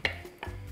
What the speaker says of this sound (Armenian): Վերադարձնում ենք ետ տապակված սմբուկը